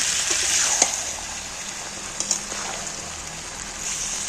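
Chicken with spices sautéing in a pan as the water cooks off, giving a steady soft sizzle with a few faint stirring clicks, close and continuous with no talk.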